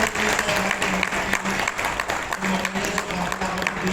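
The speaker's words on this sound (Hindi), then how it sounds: "एक जबरदस्त तालियों के साथ आप लोगों ने" Steady audience applause at a business plan presentation, dense clapping continuing throughout at moderate level with a voice faintly underneath.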